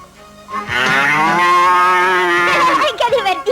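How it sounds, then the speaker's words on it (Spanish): A seismograph distortion alarm bellows with a long, loud, cow-like moo that holds steady for about two seconds before breaking off into shorter wavering bursts, nearby and alone. "suena esta alarma, más conocida por la gente de la sala por el seudónimo de la vaca"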